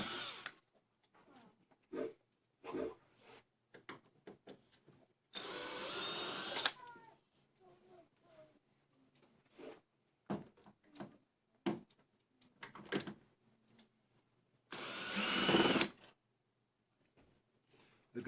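A magnetized power drill removes screws from a TV stand in two loud whirring bursts, each lasting over a second, among scattered clicks, handling knocks and quiet pauses.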